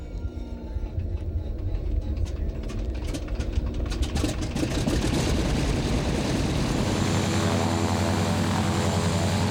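Propeller aerobatic airplane of the Esquadrilha da Fumaça, the Brazilian Air Force display team, droning loudly and steadily with a rising engine roar as it passes close, no talk over it.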